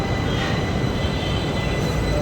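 A Rapid Rail metro train runs steadily, giving a dense, continuous rumble and rush of wheels and motors heard from inside the carriage, loud and unbroken with no voices.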